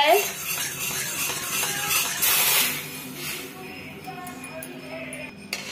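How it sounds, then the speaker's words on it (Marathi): A spoon scrapes and stirs a browned mixture in a pan over low heat, making a steady clinking and rustling with a faint sizzle. Light background noise runs underneath. "हे मंद आचेवर असंच हलवत राहायचंय."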